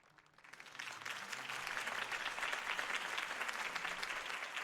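Applause from a campaign rally crowd in a Batman video game, swelling in over the first second into steady, dense clapping that holds at a moderate distance, with no voices over it.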